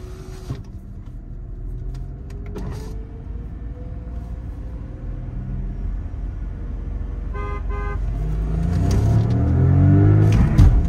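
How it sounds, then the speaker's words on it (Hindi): Volkswagen Virtus car horn blasts ring out over a rumbling engine that grows louder toward the end, with short tooting bursts in between. "हाँ हॉर्न दे देना"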